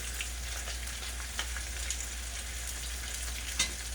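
A thick salmon steak frying in a pan over medium heat, a soft, even sizzle with a few faint pops and a low steady hum, no talk.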